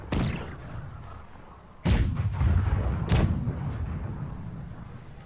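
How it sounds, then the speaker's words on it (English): Ship cannons fire in the naval video game Blackwake, with three loud booming blasts, the first at the very start and two more spaced about a second apart, each followed by a rumbling tail. "Fire all guns port side."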